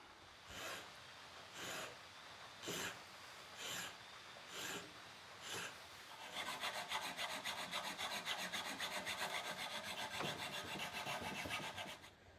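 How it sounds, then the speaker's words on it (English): A round file rasps ridges into a knife handle, first in six separate slow back-and-forth strokes, then in a fast continuous scraping run, close and fairly faint. "we're going to go in with a round file and put those in right quick"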